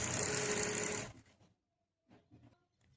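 A sewing machine runs a fast continuous stitch along a salwar seam for about a second, then stops, leaving faint clicks and light handling noises.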